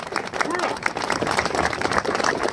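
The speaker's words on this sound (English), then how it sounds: "A big hand of applause for Brad DeLauder, please." Applause from the crowd at a Veterans Day ceremony in Swartz Creek honoring a Marine Corps veteran, a dense continuous patter of clapping with some cheering voices mixed in, moderately loud and sustained.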